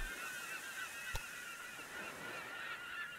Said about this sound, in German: Oh, die Möwen sind laut.